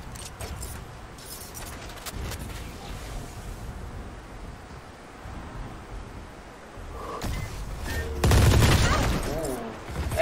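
Vandal rifle fire crackles through a Valorant esports match, with rapid bursts and scattered shots over a busy game soundscape, the loudest volley near the end, while a commentator talks intermittently.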